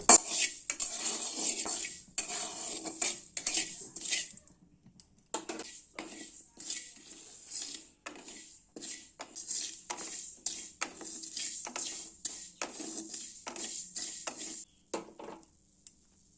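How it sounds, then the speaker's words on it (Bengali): Fenugreek and nigella seeds frying in a pan are stirred with a utensil, giving repeated light scraping and clinking strokes in quick irregular bursts, with a brief pause partway through, fairly quiet and alone. "এখন সেগুলো এখন একটু নাড়াচাড়া করে ভেজে নেব যতক্ষণ না এই মেথিটা মেথি বলো বা কালো জিরে ভালো করে ভাজা হয়ে কালো রং হয়ে যাচ্ছে"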